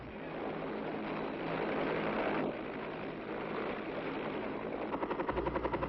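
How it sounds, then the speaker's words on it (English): Military helicopter gunships flying over a target area in wartime, a steady rotor roar and wind-buffeted drone that turns into a distinct rhythmic blade thump near the end. "Helicopter gunships come over the target to reconnoiter and to suppress enemy movement in the area."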